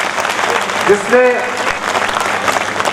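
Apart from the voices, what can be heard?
audience applause at poetry gathering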